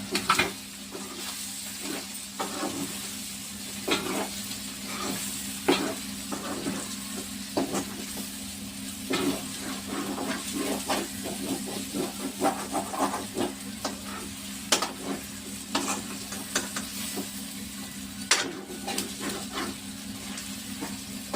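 Chicken and kandanakaya curry fries in a pan with chili powder added, a steady sizzle running under repeated sharp scraping stirs of the spoon against the pan, close and fairly loud.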